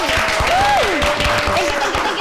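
Applause for Pak Dayat on an Indonesian talk show, loud continuous clapping from a studio audience with a sliding musical tone over it.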